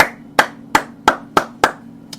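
Sharp hand claps ring out one after another in an even, steady rhythm, six of them close and alone, each with a brief decay, and a seventh starts just as the sound ends.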